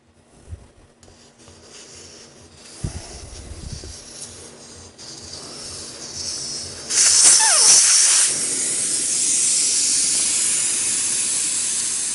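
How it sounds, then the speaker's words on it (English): Air hisses out of a Harley-Davidson Knucklehead motorcycle tire, starting with a loud, sharp burst of escaping air and settling into a steady, close rushing hiss, after some quieter handling and rubbing noises. "I'm going to let the air out of it so it'll shrink down a little bit."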